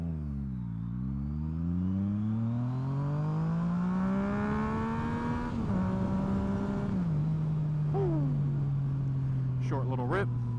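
A newly acquired motorcycle revs hard under a rider, the engine note climbing steadily through rising harmonics, shifting gears around the middle, then holding a loud, sustained drone close by with brief higher whines near the end.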